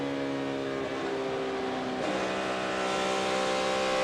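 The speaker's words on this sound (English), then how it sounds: "Just listen to that throttle and how he's working it." A NASCAR race car engine runs at full throttle at Michigan International Speedway, a loud, sustained high-pitched whine that shifts pitch slightly midway as the driver works the throttle.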